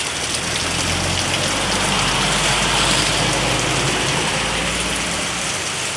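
Heavy typhoon rain drums steadily and loudly on a roof, a dense continuous hiss with a low rumble beneath.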